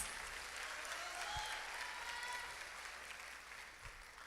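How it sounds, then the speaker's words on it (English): A graduation-style award service audience applauds the class of 2024 salutatorian, with dense, even clapping filling the hall throughout at a moderate distance, a couple of low thumps in the mix. "Please give her a round of applause."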